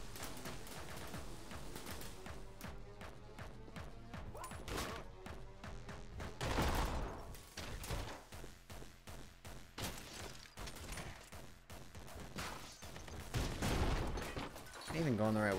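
Heavy gunfire bursts and booming explosions from the video game Anger Foot during a sewer level, dense and continuous with crashing impacts and a louder blast midway, under a player's occasional voice.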